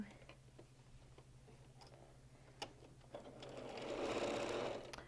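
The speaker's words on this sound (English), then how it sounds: "So, here we go to sew." A sewing machine whirs into a steady stitching run near the end, preceded by soft clicks and ticks at a low level.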